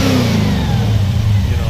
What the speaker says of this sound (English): Go ahead and rev it up one more time.